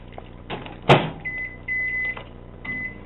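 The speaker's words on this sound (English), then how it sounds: "In the microwave it goes." A microwave oven heating pasta starts up with a thump and mechanical clunks, then a steady hum, with a high whine or beep tone sounding twice over the close, short running noise.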